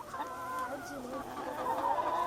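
Several chickens cluck and murmur nearby in a busy, overlapping chatter while being fed squash, fairly quiet and continuous.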